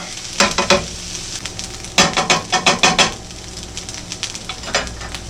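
Salisbury steak patties fry in a pan on a gas stove at medium heat, a steady sizzle broken by sharp bursts of scraping and stirring in quick repeated strokes, close and fairly loud with no voices.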